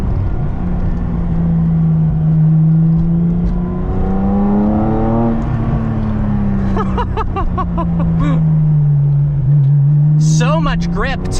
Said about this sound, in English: Oh, that air-cooled flat six sound is so beautiful.